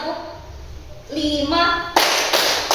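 Children clap hands in a classroom counting game, a couple of sharp bursts of claps in the second half, led by an adult voice speaking and mixed with kids' voices.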